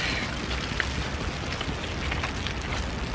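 Steady rain mixed with falling snow outdoors on a cold winter day, a dense, even hiss of drops hitting surfaces that carries on without a break and with no voices.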